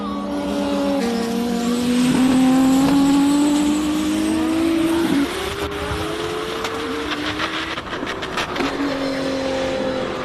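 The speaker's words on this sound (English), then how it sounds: "I think that's the sound of that front splitter just sort of grinding on the tarmac a little bit" A race car at the Simola Hill Climb King of the Hill practice roars past up close, revving hard through gear changes, then a rougher scraping rasp as the front splitter grinds on the tarmac.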